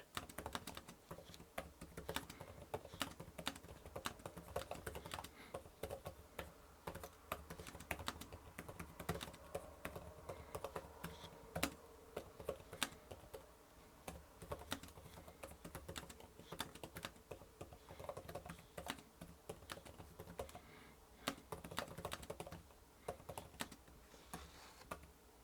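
Typing on a Boox keyboard cover: a steady, quiet run of soft key clicks that continues for the whole stretch, with no voices.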